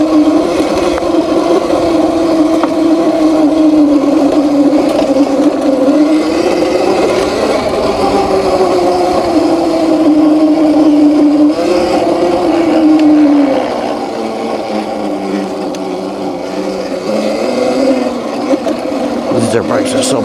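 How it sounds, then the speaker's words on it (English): A HeyBike Villain electric dirt bike rides an off-road trail, its motor whining in a steady, rising and falling hum that stays loud and close, easing off near the end as wind and faint movement noise carry on. "These dirt bikes are so perfect for this."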